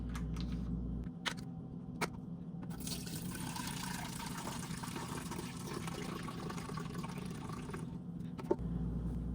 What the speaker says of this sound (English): We're going to open our solution and pour the entire contents in.